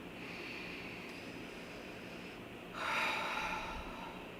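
Slow, audible breathing during a guided evening meditation: a long soft inhale followed by a fuller, louder exhale, close to the microphone with no talk.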